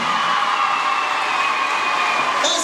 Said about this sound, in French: Est-ce qu'on peut faire un tonnerre d'applaudissements pour les deux équipes?